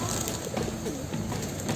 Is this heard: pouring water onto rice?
no